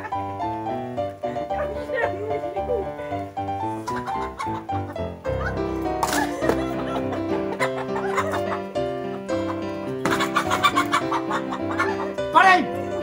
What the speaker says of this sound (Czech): Takže vidíte, jak se zavíjeli slepice.